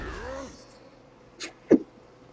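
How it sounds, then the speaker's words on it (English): A single short, sharp sneeze, preceded by a softer intake burst, following a few seconds of a voice fading out; close and fairly loud against a quiet background. "I'm sneezing so much."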